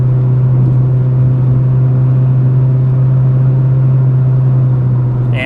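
A car, either a Ford Probe or a Chevy Citation, drops into passing gear and climbs a big hill on the highway, giving a loud, steady, droning engine rumble with no break.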